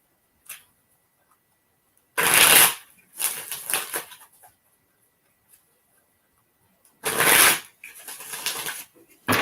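Playing cards shuffled by hand, two loud close riffle bursts each followed by softer clattering taps as the deck is squared, with quiet handling noises between.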